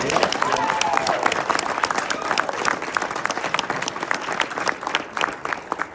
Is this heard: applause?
yes